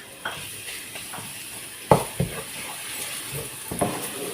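Soft, steady sizzling of golden-brown onions and garlic frying in a pan with occasional clinks and stirring scrapes, quiet and close, with no voices.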